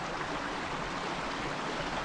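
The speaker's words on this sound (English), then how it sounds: "Look at this big pour off and pool here." Water pours over a big rock pour-off into a pool in Death Hollow, a steady broadband rush heard from a short distance, moderately quiet and unbroken.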